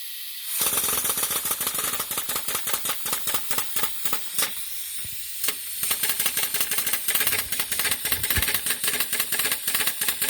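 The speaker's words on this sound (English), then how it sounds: "And if I turn on the steam pump," Steam pump running on a coal-fired live steam model locomotive, a gauge G DR 99 6001-4 by Walter Kolb, giving loud continuous rapid chuffing and hissing with a steady mechanical pulse throughout, no talk.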